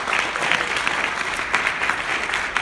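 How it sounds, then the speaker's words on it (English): Audience applause at a growth marketing conference in New York: a dense, steady crowd clapping throughout, loud and close, with no talk over it. "Let's give it a round of applause."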